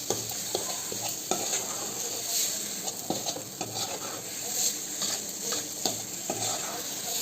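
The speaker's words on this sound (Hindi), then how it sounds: "इस तरह से चलाते हुए फ्राई करना है मसाला को।" Masala spices frying in oil in a pan over medium heat while being stirred, a steady sizzle with repeated scraping spoon strokes against the pan, close and constant without talk.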